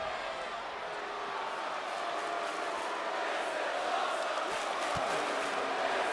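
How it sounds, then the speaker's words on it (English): A wrestling arena crowd in the WWE 2K20 video game chants in a steady, loud roar that fills the whole stretch without letting up, with no clear single voice on top. "the crowd's chanting, "This is awesome,""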